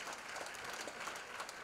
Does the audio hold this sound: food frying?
no